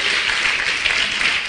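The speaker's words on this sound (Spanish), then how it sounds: "Denle un aplauso a Jesús, aleluya." A church congregation applauding in praise, a steady dense wash of clapping filling the whole moment with no pauses.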